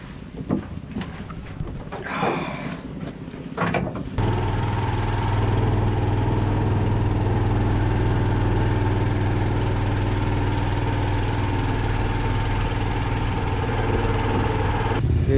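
A vehicle engine idles close by in Pakse, Laos, holding a steady low hum with no talk over it, after a few seconds of scuffing and wind at the start.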